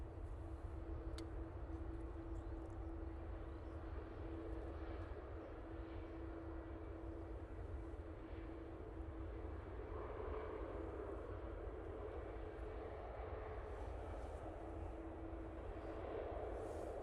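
Ryanair jet at Manchester Airport rumbling steadily for the whole stretch, a broad distant engine roar with a faint sustained whine, growing slightly louder toward the end with no talk over it.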